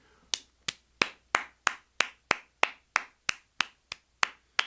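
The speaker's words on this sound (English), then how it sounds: "That gets a clap." Sharp hand claps ring out one after another, about fourteen evenly spaced crisp slaps, close and clear with no talking.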